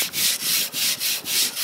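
Rhythmic back-and-forth scrubbing on a rowing oar handle soiled with body grease and sunburn cream, about six even strokes, close and fairly quiet, with no voices.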